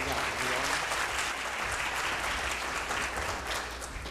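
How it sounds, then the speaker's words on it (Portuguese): Sustained applause from a conference audience fills the room at a corporate business event, steady dense clapping throughout with a faint voice underneath. "Uma salva de palmas, Marcelo, por favor."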